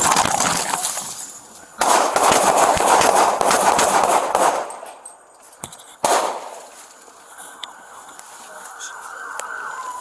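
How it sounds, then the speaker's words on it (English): Gunshots fired by police officers during a confrontation with an armed woman in Pacifica, heard as a few sharp loud bursts amid chaotic noise, with a sudden crack near the middle. "Shots fired! Shots fired!"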